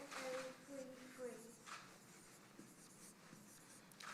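A lecturer writes on a whiteboard with a marker in a lecture hall, leaving a few short squeaky strokes and faint scratches, with quiet background murmur.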